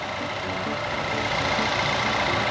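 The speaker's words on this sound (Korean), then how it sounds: "엔진 소리도 특이사항이 없습니다." A used SM3 Neo car engine idles steadily and low, humming evenly for a couple of seconds, with no voices over it.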